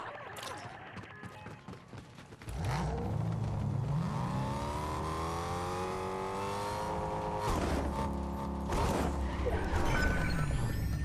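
A car in Fortnite starts up and drives, its engine rising in pitch as it revs and accelerates, loud and steady, with a few bumps and knocks over the motor.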